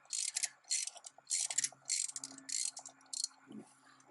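A wrench clicks and ratchets in bursts while breaking loose a spark plug on a Chevy Silverado 1500 with the 4.3 V6, with close, choppy metallic clatter and a brief low thud near the end.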